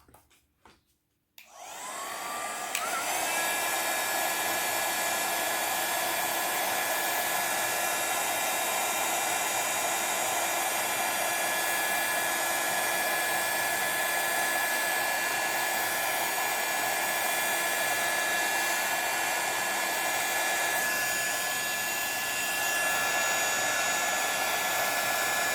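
A heat tool drying embossing powder on a scrapbook page blows a steady, loud whirring hiss that starts abruptly after a brief click and runs unbroken for over twenty seconds, with no talk.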